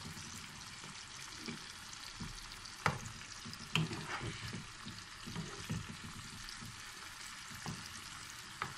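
Food fries steadily in a pan with a continuous soft crackling sizzle, punctuated by occasional sharp clicks and scrapes of a utensil against the pan.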